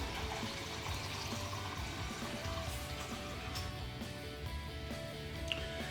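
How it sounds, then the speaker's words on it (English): Tap water runs steadily into a cup in a home kitchen while roast beef is being prepared, a continuous close splashing stream with no talking. "I'm getting some water in case you're wondering what I'm doing over here."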